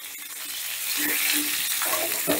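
Cut vegetables for a mung dal and bottle-gourd greens dish frying in a pan, a steady close sizzle that swells slightly louder over a couple of seconds with faint stirring scrapes.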